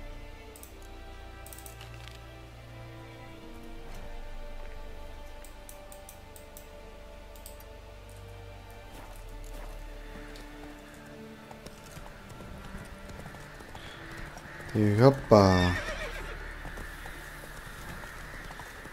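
Rhythmic hoofbeats of a galloping horse in The Witcher 3: Wild Hunt run steadily over the game soundtrack, with a loud neigh near the end and a brief spoken exclamation.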